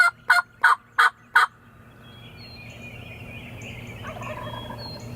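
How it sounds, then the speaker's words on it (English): Wild turkeys gobble five times in a quick, loud run near a ground blind at dawn, then the outdoor air settles into a low steady hum with faint distant calls. "the turkeys are gobbling"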